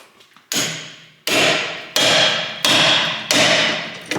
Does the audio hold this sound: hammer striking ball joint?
yes